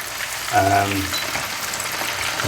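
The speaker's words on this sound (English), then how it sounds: "So what we're going to do today is to do a double fry." Battered beef strips drop into hot oil for a first deep fry, giving a sudden loud burst of bubbling sizzle that settles into a steady, fairly close frying hiss with a fresh surge near the end.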